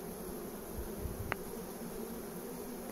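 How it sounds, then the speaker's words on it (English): Honeybees from a large swarm buzz around a hive in a steady, close, noisy hum, with one brief sharp tick partway through and no voices. "So that was a big swarm."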